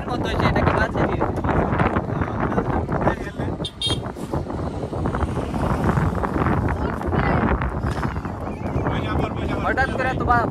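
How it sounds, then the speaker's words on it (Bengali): Strong stormy wind buffeting an outdoor microphone, a loud continuous roar with gusty surges throughout, and a voice speaking faintly beneath it. "দেখতে পাচ্ছেন বাতাস এখানে দাঁড়িয়ে থাকতে পারছি না।"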